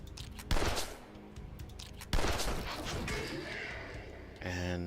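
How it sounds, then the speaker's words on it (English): A grape shot and a pistol shot fired in the video game The Last Spell, two heavy booming blasts a second and a half apart that ring out over a rumbling battle ambience, followed by a brief chime. "Fire a grape shot and a regular pistol shot"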